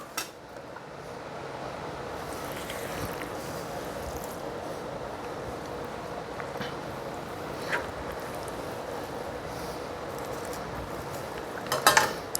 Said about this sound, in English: now we're going to add them to the pot over here